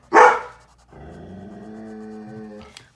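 A single loud dog bark opens, then a sustained low, droning whine or moan-like vocalization follows for about two seconds, close and clear with no talking.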